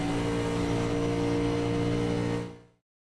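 1987 race car engines in iRacing hold a steady, droning roar, several cars blending into one continuous tone at moderate volume before it cuts off abruptly near the end.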